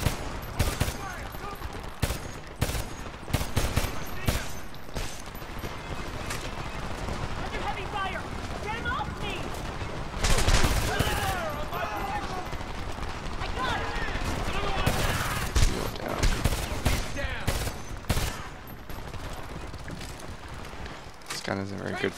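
Gunfire in the video game Homefront: The Revolution: sharp shots and rapid bursts at varying distances, some close and loud, with voices talking over the firefight throughout.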